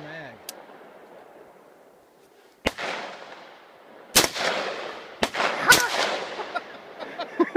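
An AR-15 rifle fires four sharp, loud shots at uneven intervals outdoors, each cracking and echoing, with people talking between the rounds.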